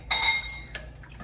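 A metal spoon clinks bright and ringing against a crockpot while beef stew ingredients are stirred, two or three close, distinct taps with no talking.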